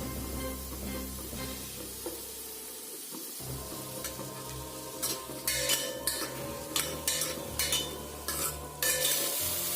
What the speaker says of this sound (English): add in the pumpkin cubes to the onion garlic mixture and fry them